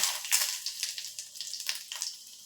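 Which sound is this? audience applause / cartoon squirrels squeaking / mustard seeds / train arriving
mustard seeds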